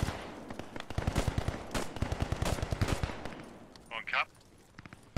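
Rapid bursts of WW2 small-arms and machine-gun fire rattle in Post Scriptum, with repeated sharp volleys clustered close together, then trailing off into a few scattered shots and a brief distant squeal near the end.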